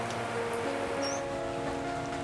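Steady rain falling, a soft continuous patter heard at a distance with faint tonal background hum and no talk.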